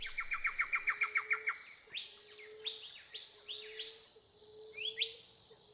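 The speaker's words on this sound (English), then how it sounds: "Some beautiful bird song." Recorded birdsong played as music: a rapid run of repeated chirps, then several sweeping whistled phrases with pauses between them, clear and fairly close over a faint steady insect-like hum.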